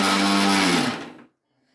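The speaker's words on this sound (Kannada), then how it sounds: "ಮಿಕ್ಸಿಗೆ ಹಾಕಿ ರುಬ್ತಾ ಇದ್ದೀವಿ ನೋಡಿ" A kitchen mixer grinder whirs loudly as it blends mango cake batter of mango, sugar, semolina and cardamom. The motor drone lasts about a second and then winds down into silence.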